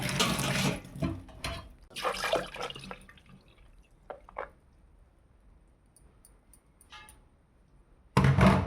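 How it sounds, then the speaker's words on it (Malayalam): Washed rice and water poured into a sieve, a splashing pour at first, then sparse drips and trickles fading to near quiet before a sudden burst of running water at the end. "അത് കഴുകിയിട്ട് നമുക്ക് അരിപ്പയിലേക്ക് നമുക്ക് ഊറ്റാം കേട്ടോ."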